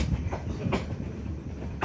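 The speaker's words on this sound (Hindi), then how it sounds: "ये टूरिस्ट ट्रेन पहुंचते हुए" Tourist train pulling into Bichhiya railway station near Dudhwa National Park, a steady low rumble of rail cars with a few sharp wheel clacks at regular intervals, close by and without speech.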